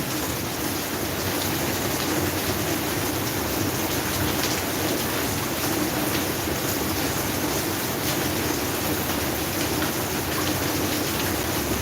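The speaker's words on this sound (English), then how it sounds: "It's raining." Heavy rain falls steadily outdoors, a dense, close hiss of drops on surfaces that holds loud and unbroken throughout with no voices.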